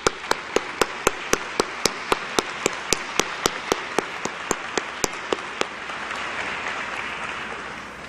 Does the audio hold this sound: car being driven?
no